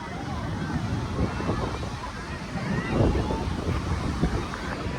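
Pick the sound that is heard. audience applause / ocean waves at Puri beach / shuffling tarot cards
ocean waves at Puri beach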